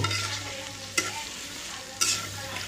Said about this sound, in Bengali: তো এটা একটু এখন তেল দিয়ে ভেজে নেব।